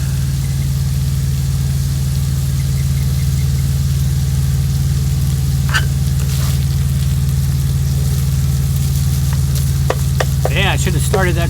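Hamburger meat for tacos frying in a pan on a stove, giving a steady, close sizzle with occasional stirring scrapes over a constant low hum.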